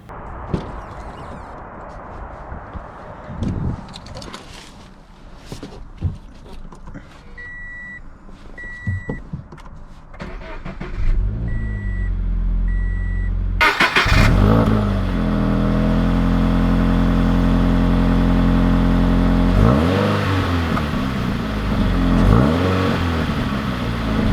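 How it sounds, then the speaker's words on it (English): A 2020 Subaru BRZ tS sports car, after quiet clicks and handling noises, its engine starts loudly midway and then idles and revs steadily nearby with rising and falling pitch. "let's take this TS out to see how it drives"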